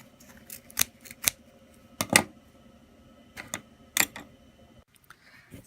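Scissors snipping thread while sewing an invisible zipper, a handful of short, crisp metallic cuts in irregular bursts close to the mic, with quiet pauses between them.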